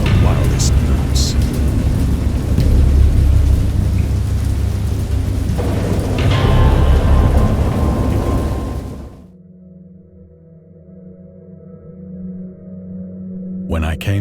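Heavy rain pours steadily with deep rumbling thunder for several seconds, then cuts to a quieter, muffled interior with faint low hum.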